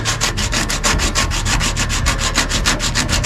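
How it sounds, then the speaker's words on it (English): Steady rhythmic sanding on car body work with fiberglass repair, quick even back-and-forth strokes rasping close and loud with no talk. "You could spend months just sanding."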